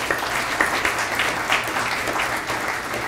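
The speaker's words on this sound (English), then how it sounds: "a big round of applause" Audience at a Richmond downtown development forum claps for the Venture Richmond staff, a steady wash of applause from a roomful of people that holds at even loudness throughout, with a few sharper claps standing out.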